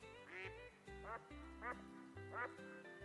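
Ducks in the hunting video game Way of the Hunter quack in four distinct bursts of rasping calls, fairly faint and evenly spaced, with a low steady background hum.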